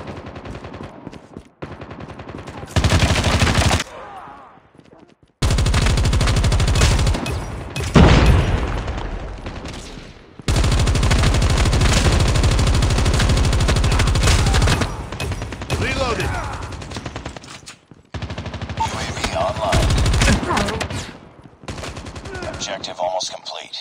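Bursts of automatic gunfire and loud booms from a Call of Duty Mobile team deathmatch, with long sustained fusillades broken by short pauses, and game voices briefly heard between the shots.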